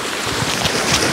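A boat passes on murky water where a lure is being fished, producing a steady, loud broadband wash of engine and water noise with wind buffeting the microphone throughout.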